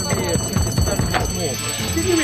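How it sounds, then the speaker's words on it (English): A fire alarm rings steadily in the background while several people talk loudly and anxiously over it. "Did you hear the fire alarm going off?"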